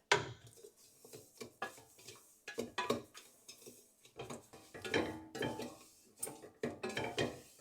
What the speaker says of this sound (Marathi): तूप घातल्यावर आपण हा चांगला तुपामध्ये परतून घेऊयात